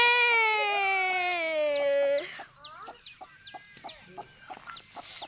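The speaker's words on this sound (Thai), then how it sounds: "ไก่มาแล้วเย้" Chickens at a farm, a loud drawn-out squawking call opening the clip, then a series of short clucks and scattered calls continuing at closer range with no talk.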